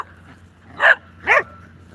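A dog gives two sharp barks about half a second apart, fairly close, with quiet background in between.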